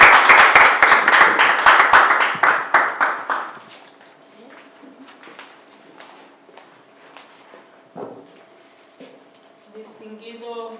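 Loud applause from a Toastmasters audience at a training session, sharp dense clapping for about three seconds that quickly fades out, followed by quiet room noise and faint distant sounds.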